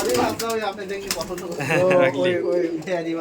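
Giribaz pigeons coo in a loft, a continuous, close, throaty cooing with overlapping calls and a few wing sounds, while people talk nearby.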